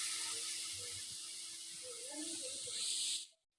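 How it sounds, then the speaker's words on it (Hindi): Garlic ginger paste frying in a pan for a mixed daal tadka, a steady bright sizzling hiss close up with a voice talking softly beneath it, cutting off abruptly near the end. "अब हम डालेंगे 1 चम्मच लहसुन अदरक का पेस्ट और भूनेंगे"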